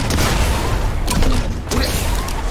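Explosive snowball launcher shot in Fortnite, a dense booming burst with crashing, mechanical clatter filling the moment, loud and close, with no talk over it.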